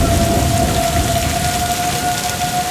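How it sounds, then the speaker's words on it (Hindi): Heavy, steady rain pours down in a dense unbroken hiss, loud and close, with a faint thin tone running beneath it and no voices. "ऐसा लगा जैसे तेज बारिश शुरू हो गई है"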